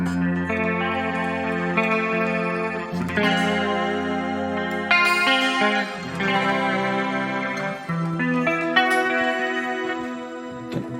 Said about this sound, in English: I've entered the shimmer reverb.